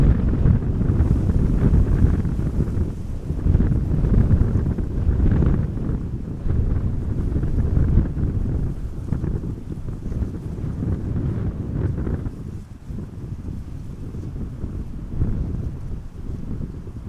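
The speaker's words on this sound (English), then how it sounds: "Today the wind is a bit less intense, but more from the side" A side wind blowing across the runway at Amsterdam Schiphol Airport buffets the microphone outdoors, giving a continuous low rumble that rises and eases slightly without a break.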